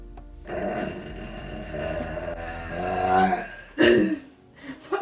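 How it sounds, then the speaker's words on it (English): A long, loud, croaking burp after drinking Faygo soda rolls on for several seconds, growling and uneven, followed by a shorter sharp belch near the end. "Are burps called mouth farts or?"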